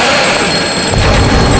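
Telephone ringing loudly in a horror drama scene, a dense electronic ring that fills the whole moment without pause, with a low rumble joining partway through.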